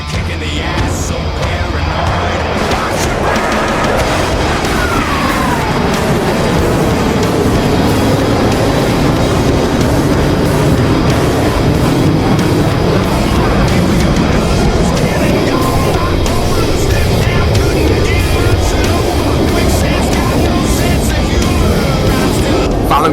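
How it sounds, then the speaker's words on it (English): A loud EA-18G Growler jet roars past at an Independence Day airshow, its thick broadband rumble swelling and sweeping overhead with a descending tone, sustained for over twenty seconds, an announcer's voice audible underneath. "That was Cuban and Growler 2 demonstrating the tactical surprise of the EA-18G."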